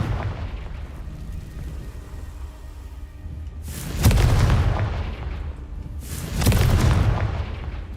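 Confringo spell explosions in the Hogwarts Legacy video game, two loud booming blasts a couple of seconds apart over a low rumbling background, each decaying slowly, with no voices.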